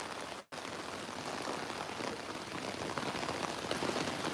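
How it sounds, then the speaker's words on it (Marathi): Heavy rain pours over a village area in Virar, a dense, steady hiss of falling water that briefly cuts out near the start, then continues loud and unbroken. "हा पाऊस आज चांगला दमदार सलामी देतो आहे"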